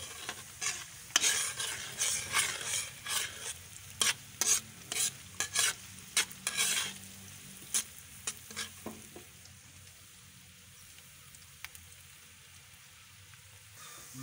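Onion and flaked fish being sautéed and stirred in a pan for fish lumpia filling, with a steady sizzle and a run of scraping stir strokes that fade to a quieter fry.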